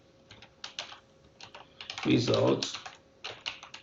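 Steady clicking of computer keyboard keys while coding, quick irregular bursts of close taps that continue under a man's speech.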